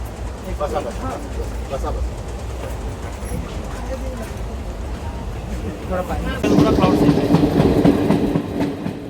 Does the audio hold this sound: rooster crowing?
no